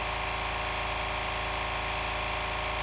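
A 1 horsepower air compressor runs steadily as it fills an 8 gallon tank, with a loud, constant motor drone and a rapid pulsing knock from the pump.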